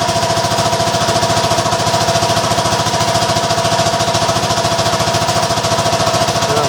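A small 750-watt diesel generator runs under heavy load, past its rating, with a loud, steady, rapid knocking chug that continues without a break the whole time and has a constant tonal hum riding over it.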